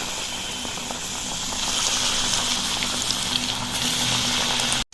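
Coated ridge gourd pieces fry in a hot wok, giving a steady, close sizzling hiss that holds even and continuous, then cuts off abruptly at the end.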